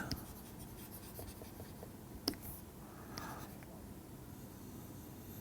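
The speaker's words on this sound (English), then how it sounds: "let me write that" Chalk or marker writing on a board during a mathematics lecture on Dedekind domains: faint, scratchy strokes in a quiet room, with one sharper tap midway.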